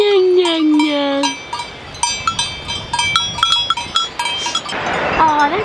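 Goats bleat repeatedly at close range on a Ticino hillside in Switzerland, with cowbell-like clinks and other livestock noises mixed in.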